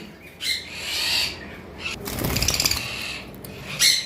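Small parrots, green opaline Fischer's lovebirds, chatter and chirp in bursts, with a stretch of fluttering wingbeats in the middle, close by and moderately loud.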